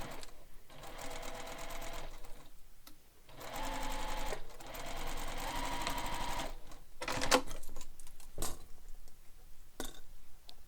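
A sewing machine stitches a straight seam across the corner of a Manhattan bag, running in steady bursts of rapid mechanical ticking, separated by short stops and a few clicks.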